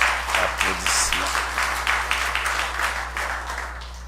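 Applause from a church congregation, a sustained patter of many hands clapping at moderate volume that slowly fades, with a faint voice briefly over it.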